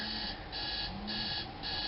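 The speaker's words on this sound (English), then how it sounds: "I apologize for that alarm going off" An electronic alarm clock beeps in steady repeating bursts, loud and continuous with no voices.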